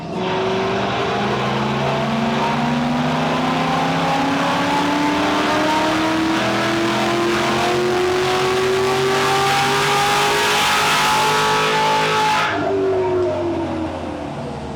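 LS-swapped widebody Porsche 911 engine revving hard through a sustained run, pitch climbing steadily for about twelve seconds before cutting off abruptly into a lower idle, loud and close with no talking.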